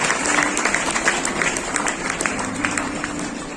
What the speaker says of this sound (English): Give a big round of applause and welcome them.